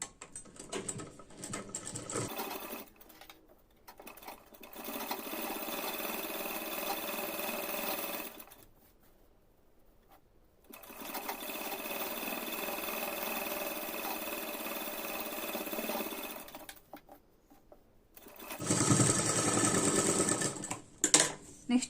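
A sewing machine stitches half an inch in along the folded V-shaped front neck of a blouse. Two long, steady whirring runs are split by a short pause, then a brief final burst follows, with no talking.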